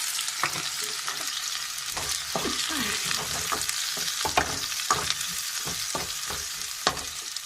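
Sliced onion drops into hot oil already crackling with red chilli in a home kitchen pan, a steady loud sizzle broken by repeated scraping strokes of a stirring spoon.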